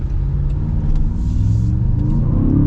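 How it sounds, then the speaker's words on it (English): A 2026 Land Rover Defender OCTA Black with a BMW twin-turbo V8 accelerates hard, a deep, loud engine rumble rising steadily in pitch from inside the cabin, with no talk over it. "This is BMW's twin turbo V8 that's got wonderful power."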